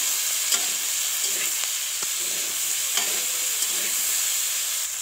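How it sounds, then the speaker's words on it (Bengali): Flat beans tossed with salt in a frying pan, a steady hiss of oil with soft scrapes and knocks of a stirring utensil at irregular intervals, close and continuous, with no voices. "স্বাদ মতো লবণ দিয়ে দেবো, দিয়ে ভালো করে নাড়াচাড়া করে নেবো"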